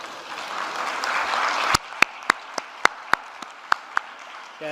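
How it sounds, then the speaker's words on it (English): Scattered, sparse hand clapping from a small audience at a medical conference on childhood cholestatic liver disease, a few distinct claps after a murmur of room noise. "So just a round of applause for them."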